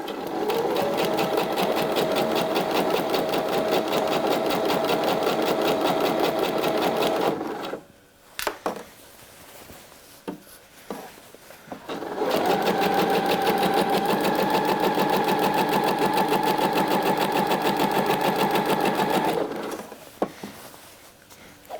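A domestic sewing machine stitches a blouse seam at the shoulder line, running steadily for about seven seconds, then after a short pause it runs again for another long, even burst. The motor whirs loud and close, with no voices.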